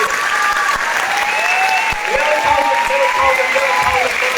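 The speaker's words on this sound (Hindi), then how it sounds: "आप लोगों के लिए हो जाए लेवल 100 तालियां" A hall audience claps loudly and continuously, with a voice speaking over the applause throughout.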